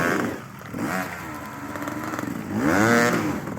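Motorcycle engine revving during a spring off-road ride, throttle rising and falling in loud, close bursts that swell strongly near the end.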